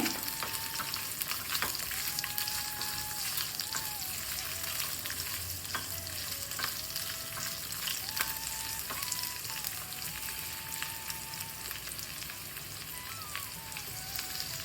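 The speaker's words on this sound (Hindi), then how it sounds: "प्याज को इस तरह से हम मोटा मोटा रफली कट कर ऐड कर देते हैं और सभी चीज़ों को 1 मिनट के लिए भून" Roughly chopped onion and spices fry in a pan with a constant, close crackling sizzle that holds level throughout, with a faint tonal melody underneath and no talking.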